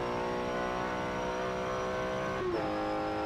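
A race car in Forza Motorsport 7 runs flat out, a loud, steady high-pitched engine whine holding at full throttle, then a quick pitch drop as the next gear engages and the drone continues.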